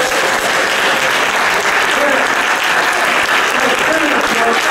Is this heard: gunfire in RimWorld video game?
no